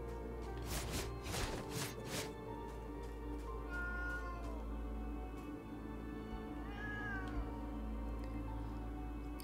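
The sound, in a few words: cat meowing in the video game Moonscars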